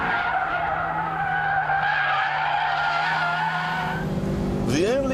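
A Mitsubishi Evo driven hard lets out a loud, sustained tyre squeal over a steady engine drone, ending in a rising engine rev as the car pulls away.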